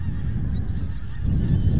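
Pink-footed geese gather at a winter roost on the Wash, a dense, continuous low honking chorus from a large flock, steady and fairly loud throughout with no voices.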